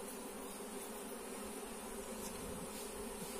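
Honey bees in a hive drone with a dense, steady buzz that stays even and fairly quiet throughout, with no voices.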